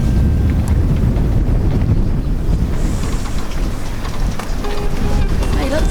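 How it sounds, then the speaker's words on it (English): Blustery wind buffets the microphone outdoors near a harbour full of boats on a wet, rainy day, a loud, continuous roar with gusty rumble and hiss across the whole stretch. "A moment of clearness with a bit of heat from the sun and then bush, wind and rain again"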